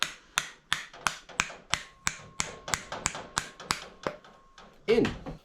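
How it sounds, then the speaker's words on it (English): A plastic hammer taps a trailing arm bushing into a car's rear suspension on a Toyota Altezza SXE10, giving a steady run of about fifteen sharp, close knocks followed by a brief duller thud. "Plastic hammer."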